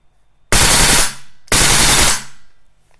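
Two loud, close bursts of rapid full-auto fire from a VFC AK-74 airsoft rifle running on HPA, each about half a second long with a short gap between, with no talk.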